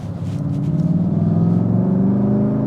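Steady engine hum from inside a car as it pulls away gently, a smooth low drone that rises slightly without any hard revving, with no talking.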